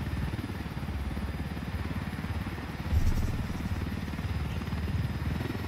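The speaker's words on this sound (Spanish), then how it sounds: "Fíjense la cantidad de helicópteros que hay allá." A continuous mechanical drone of several helicopters in Ghost Recon Wildlands with a rhythmic rotor-like flutter, steady throughout, briefly swelling louder midway.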